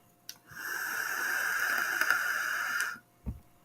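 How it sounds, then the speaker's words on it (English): A long, close, hissing breath of vapor exhaled from a vape straight into a streaming microphone, lasting about two and a half seconds, framed by faint clicks. "It's funny how loud that vaping is when you're streaming."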